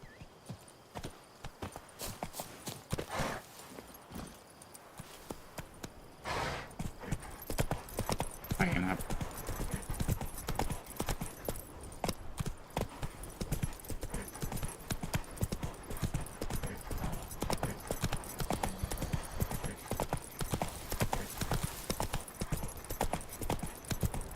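Roach the horse gallops in The Witcher 3, hooves clip-clopping in a fast, steady rhythm that builds after a slower start and continues throughout, with a brief whinny and a voice speaking in the background.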